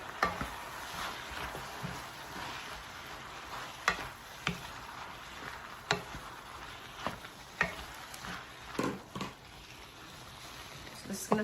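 Onions and tomatoes sauté in a pan, giving a soft frying hiss broken by scattered clicks and taps of stirring, with a voice talking over it.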